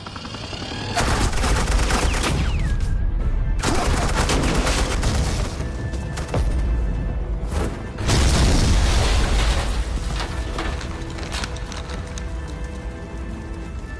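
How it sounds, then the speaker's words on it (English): Suppressing gunfire in a Batman video game: loud, sustained automatic bursts that start after a brief quiet moment, keep going with a couple of short breaks, and play on their own without talk. "This is Agent Quinn, suppressing fire."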